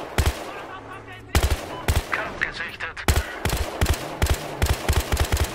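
Rapid gunfire from the video game Battlefield Hardline in multiplayer, with loud sharp bursts of shots in quick clusters repeating throughout, close and dominant.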